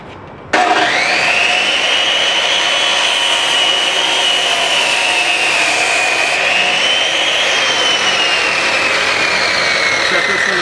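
A power cutting tool slicing slowly through wire braided hose held in a vise, a loud sustained whining drone that starts abruptly and holds steady with a slight pitch drift.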